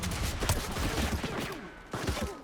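Rapid cartoonish finger-gun shots in Fortnite fire in dense repeated bursts over busy game noise, with a brief lull before a final volley.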